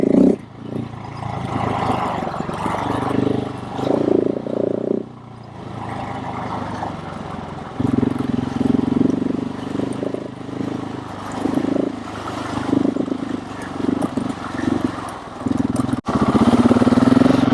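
A Husqvarna 701 LR motorcycle rides a backcountry road on the Northeast Backcountry Discovery Route, its single-cylinder engine droning up and down through throttle changes with wind rush, heard close throughout.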